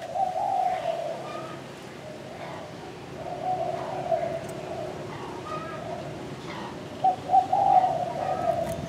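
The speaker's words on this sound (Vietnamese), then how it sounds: "nó thúc lên là nó gu thôi" A spotted dove from Phú Yên coos in repeated soft, low phrases, several clear calls spaced across the stretch with a faint outdoor background and no talking.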